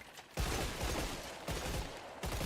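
AK rifle gunfire in the video game KF3, close and loud, sustained automatic bursts with short breaks between them.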